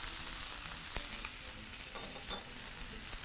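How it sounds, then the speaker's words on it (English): Vegetables sizzling in a hot pan with curry powder, a constant faint crackle with a few light taps and scrapes as they are tossed. "toss your vegetables in the pan very, very shortly"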